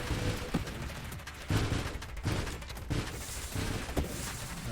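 A flak turret fires in the space shooter Nova Drift: a rapid fusillade of punchy bursts, several distinct thumps spaced irregularly amid a dense roar of in-game combat noise, with no voices.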